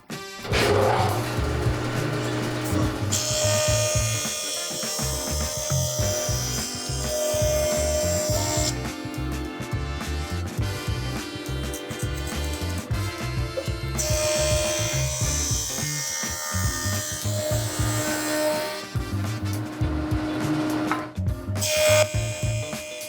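A woodshop planer-jointer combo machine running with dust collection, a loud continuous whirring drone with shifting tonal hum and rough grinding as wood feeds through, close and steady with no talking.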